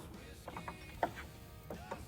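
A ratchet tightens a bolt on a GQ Tech Tour-Pak mount on a motorcycle, giving faint, close clicking pawl strokes in a few short bursts over a low background hum.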